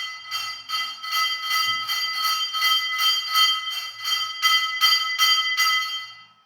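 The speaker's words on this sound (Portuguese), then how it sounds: "estão ouvindo o sininho?" Small bell ringing in a rapid, steady series of bright metallic strikes throughout, fairly close and clear, with no talk over it.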